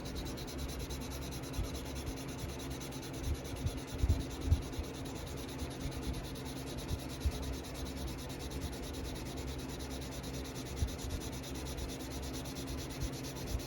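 Steady soft rubbing of wet-sanding on automotive clear coat sprayed with Createx paint, a continuous low scrubbing texture with slight rhythmic strokes, faint and close, no one speaking.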